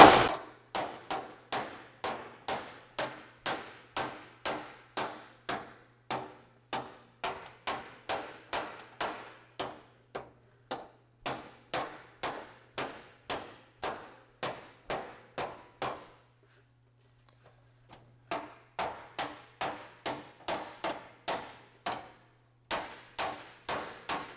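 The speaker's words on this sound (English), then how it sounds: "I've got a round-faced hammer here" A round-faced hammer beats an Austin-Healey 3000 body panel against a dolly held behind it, striking in a steady, rapid rhythm of sharp metallic taps, with a brief pause before the blows resume.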